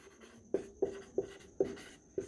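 Pen writing out a math solution on paper, a series of five short scratchy strokes in quick, uneven rhythm, close and fairly quiet with no talk.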